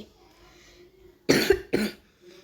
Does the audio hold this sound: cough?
yes